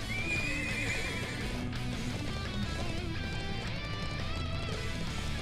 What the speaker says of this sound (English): Thoroughbred war horses. From the Bardius family's own stable.